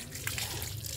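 Water from a hand pump gushes steadily into a basin outdoors, a continuous close splashing flow with no voices.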